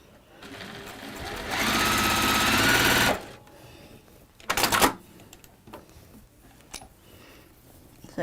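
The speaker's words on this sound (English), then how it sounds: "we'll go back to the sewing machine. And if I stitch that triangle again" A sewing machine stitches a fabric triangle in a loud, fast run of needle chatter lasting about a second and a half, followed by a short second burst and quieter handling clicks, close up.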